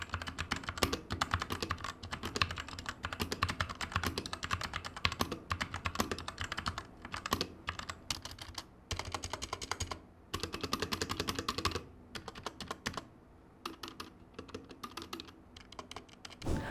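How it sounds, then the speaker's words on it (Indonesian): Continuous typing on a budget 71-key computer keyboard with a hollow-sounding base and rattling stabilizers, dense clacking keystrokes in steady bursts with brief pauses, close and alone. "denger aja suara keyboardnya seperti apa"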